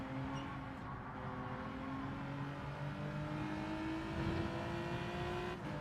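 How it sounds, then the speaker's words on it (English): A strained-sounding race car engine in Gran Turismo 7 holds a steady, slowly climbing drone at close range, loud and continuous throughout, with no speech over it. "It sounds like the engine's about to break."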